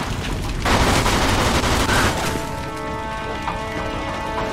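Loud burst of video game gunfire, a dense volley of shots for about a second and a half, then fading into a steady tonal game sound with no voices.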